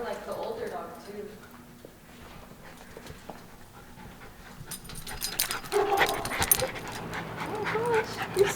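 Dogs named Coco and Charlie pant and shuffle nearby, quick breathy huffs with some scrabbling, while people talk over them.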